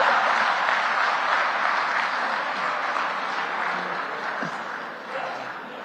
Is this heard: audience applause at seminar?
yes